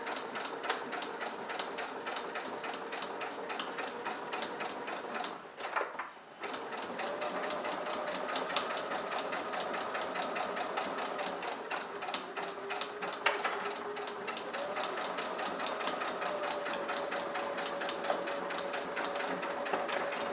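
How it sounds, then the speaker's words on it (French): A sewing machine runs a straight stitch in a long, steady mechanical whir with a fast rhythmic ticking. There is a short pause partway through before the stitching resumes. The machine is close, and there is no talk. "Et je couds au point droit tout le long."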